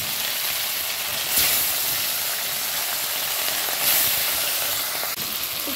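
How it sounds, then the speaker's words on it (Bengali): Fish frying in hot oil in a wok gives off a loud, steady hissing sizzle that swells briefly a couple of times, with no voices. "মাছগুলো ভেজে নেব"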